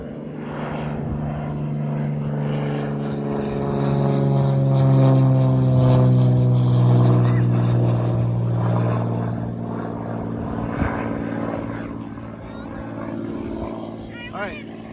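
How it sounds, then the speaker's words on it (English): A propeller airplane flies low right overhead outdoors, its drone swelling loud to a peak and then fading away as people talk beneath it. "we're about to have an airplane fly right over us"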